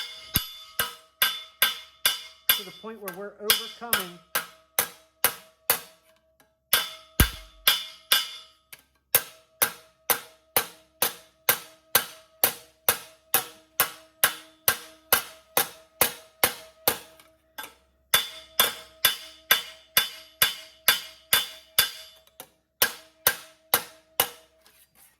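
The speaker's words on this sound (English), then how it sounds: "now I have a cross peen hammer here, and what we're going to do is we're just going to strike it" Sharp metallic cross peen hammer strikes ring out in a steady, rapid series on sheet metal, close and loud, with brief pauses and a few spoken words.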